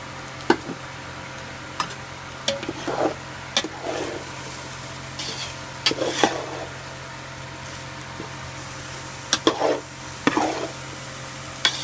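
Cooked rice is added to a hot pan for egg fried rice and stirred, frying. A low sizzle and hum run throughout, with scattered spatula scrapes and taps against the pan and no talk.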